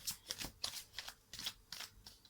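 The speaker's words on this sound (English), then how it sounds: "I'm going to shuffle 10 times." Tarot cards are shuffled over and over, close-up papery riffles and taps repeating in an even rhythm of about nine strokes, quiet with no talking.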